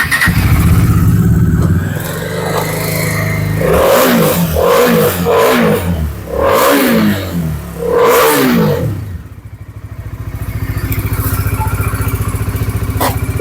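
A used Bajaj Dominar 400 motorcycle, a BS4 UG model in good condition at a second-hand bike showroom near Kolkata, is started and brought up to a loud, close idle, then revved in several throaty pulses before settling back.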